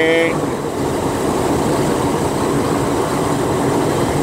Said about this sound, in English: Oh, got a train over here.